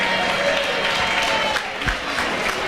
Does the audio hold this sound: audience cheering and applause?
yes